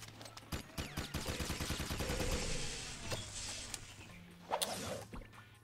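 Rapid-fire gun in the Jak and Daxter video game, a fast burst of close, crackling shots that rattles for a couple of seconds and then breaks into a few scattered louder reports.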